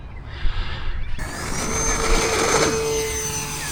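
An E-flite Twin Otter RC plane powers up for takeoff, its electric motors rising from a low whir to a loud, steady buzzing whine with a high tonal drone as it accelerates away.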